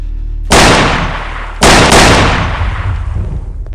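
Two loud, booming landmine blasts go off in Garry's Mod, the first sharp and the second a little over a second later, each with a long rumbling tail and no voices present.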